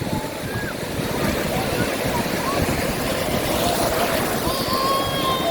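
Sea waves wash onto Clifton Beach in Karachi, a crowded shore where people are bathing; a steady, broad surf rush continues throughout with no clear breaks, and faint crowd voices mix into the noise.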